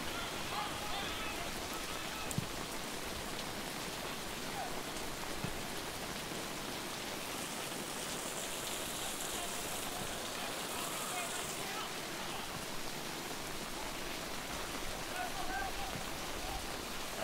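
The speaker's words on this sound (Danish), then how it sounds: "Det er altså regnen, der vælter ned over vores udendørs studie her på Fredensvang" Heavy rain pouring down on the roof of an outdoor broadcast studio at a football match, a steady dense drumming hiss that lasts throughout, with a commentator talking over it.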